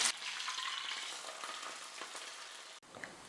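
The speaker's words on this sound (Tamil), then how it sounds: "இப்போ இந்த தாளிப்பை சட்னியில் சேர்த்துக்கலாம்." Hot tempering of urad dal and curry leaves poured into coconut chutney sizzles and crackles steadily, a soft close frying hiss that breaks briefly near the end.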